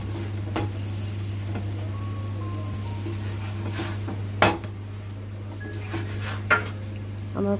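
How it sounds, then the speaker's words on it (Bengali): Aloo paratha fries in refined oil with a steady, close sizzle, joined by a few sharp metallic clinks of a utensil against the pan. "আমি এখানে রিফাইন্ড অয়েল ইউজ করেছি, আপনারা চাইলে সরষের তেল দিয়েও ভাজতে পারেন।"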